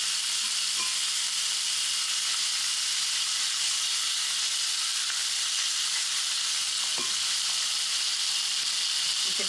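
Fish frying in a frying pan gives off a constant, even hiss of sizzling oil, close and steady from start to finish, with a few faint taps and clicks underneath.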